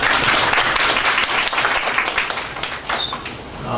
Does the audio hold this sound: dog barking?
no